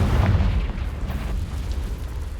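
A Confringo blasting spell in Hogwarts Legacy detonates with a deep, rumbling boom that lingers as a low roar for a couple of seconds, loud and close with no talk.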